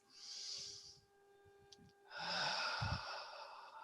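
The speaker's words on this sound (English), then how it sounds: "You may hear me breathing." Slow, audible breaths close by, a soft airy exhale followed by a longer, louder breath, with quiet pauses between them.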